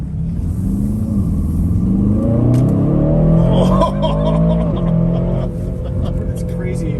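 The engine of an Aston Martin DBX 707 SUV on a test drive, a deep rumble heard from inside that rises as it accelerates and then eases off, with people talking over it.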